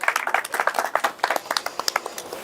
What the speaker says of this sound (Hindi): बार जोरदार तालियां बजाएं